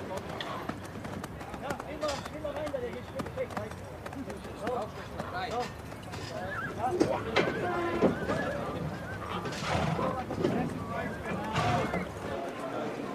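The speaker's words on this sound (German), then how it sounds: "Der Starter lässt die Pferde nun in die Startmaschine führen." Racehorses are led into the starting gate at a horse race, with whinnies, shuffling hooves and crowd murmur heard under a steady stream of nearby talk.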